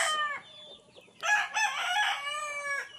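Roosters kept as fighting cocks in a cage crow loudly twice, a short call followed by a longer, strained cock-a-doodle-doo, close by with no talking.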